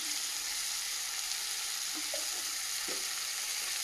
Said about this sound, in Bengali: টমেটোটা ভালোভাবে ভাজা ভাজা হয়ে গেছে